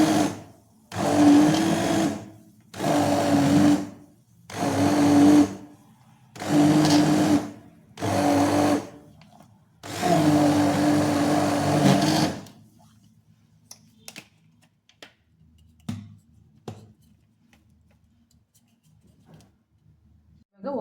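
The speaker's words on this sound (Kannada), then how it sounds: "ಬ್ಲೆಂಡರಲ್ಲಿ ಇವಾಗ ಸ್ವಲ್ಪ ಬ್ಲೆಂಡ್ ಮಾಡ್ಕೊತಾ ಇದ್ದೀನಿ. ಸೊಪ್ಪು ಬೇಳೆ ಎಲ್ಲ ಮಿಕ್ಸ್ ಆಗ್ತದೆ." A kitchen blender whirs through fenugreek greens and lentils in five or six loud pulsed bursts, the last one longest, followed by near silence with a few faint clicks and handling sounds.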